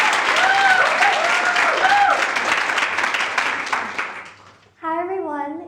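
An audience at a TEDx talk at Drexel University's LeBow College of Business gives a warm burst of applause that fades out, and then a speaker's voice begins.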